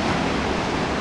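Ocean surf washes onto the beach at Apo Idon, Pagudpud, Ilocos Norte, a steady, loud broadband roar of breaking waves with some wind rumble and no pauses.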